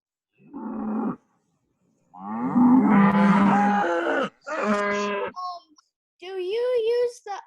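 Farm cattle moo repeatedly, several long loud calls close by with short pauses between them, on a 4-H farm before their morning feeding, with no talk over them.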